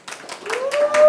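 A few quick, separate handclaps break out for directors Raj and DK at a Filmfare OTT Awards press conference, close and sparse, while a voice speaks over them.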